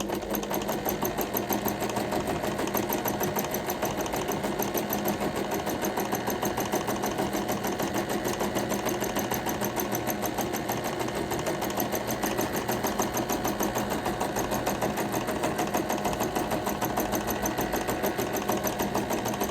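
Sewing machine stitching fabric for a handmade umbrella, a continuous rapid mechanical whir and needle clatter running evenly and unbroken, close and steady throughout.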